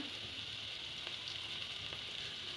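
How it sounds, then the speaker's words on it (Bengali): Cumin, ginger and garlic pastes, with coriander leaf paste, fry in a pan, giving a steady, fairly quiet hiss of sizzling oil that runs without a break. "সব বাটাগুলো একটু ভেজে নেব"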